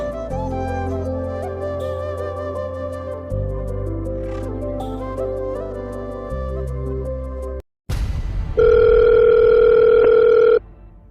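An electronic phone tone plays a stepped, buzzy melody, cuts out briefly, then gives way to a loud, steady beeping tone.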